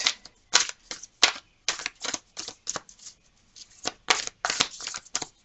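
A deck of tarot cards is shuffled in a string of quick, crisp riffling bursts separated by brief pauses, close and fairly loud with no talking.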